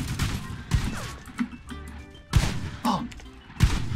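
Scattered gunshots in the toy-soldier shooter Plastic Warfare, several loud irregular cracks spaced over a few seconds with clattering and thuds between them and faint voices.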